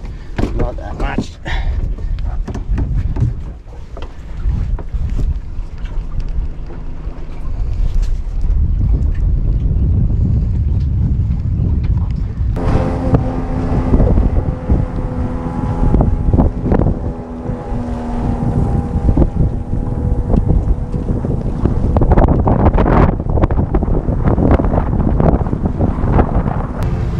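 Small sailboat out on the ocean after a bar crossing: loud wind buffeting and rushing water around the hull, continuous and close, with a voice talking underneath.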